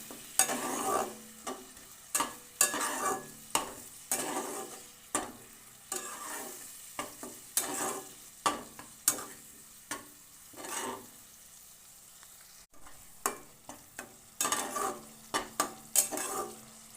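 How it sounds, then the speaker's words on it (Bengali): Spices sautéing with a little water for a vegetarian eggplant dish: repeated spatula scrapes and clanks against the pan in uneven bursts over a light sizzle, with a brief quiet pause midway. "মশলা ভালো করে কষিয়ে নেব"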